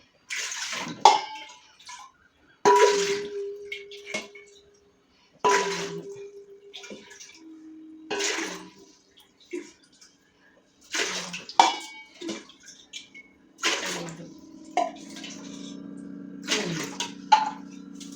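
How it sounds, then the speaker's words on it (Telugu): Glass after glass of water is poured into a pot of sago in a home kitchen, giving a series of separate splashing, gurgling pours with short quiet gaps between them. "ఎనిమిది గ్లాసులు పోద్దాం నీళ్ళు"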